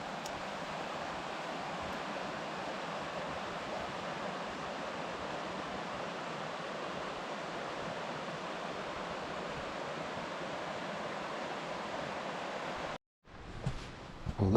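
A creek flows below a hiking trail near Payson, Arizona, in spring, a steady broadband rush of water heard from above, unbroken for many seconds before a sudden cutoff and a brief burst of close handling noise.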